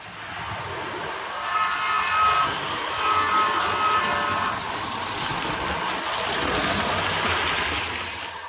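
A Mernard Santa Fe Beta 4.0 model locomotive engine revs up with a steady, loud, dense drone that swells in waves over several seconds, with no talk.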